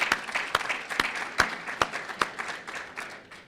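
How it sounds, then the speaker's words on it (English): Sparse, scattered claps from a small audience at a mayor's press conference, a few sharp hand claps spaced out and fading toward the end. "Let's have a round of applause for them."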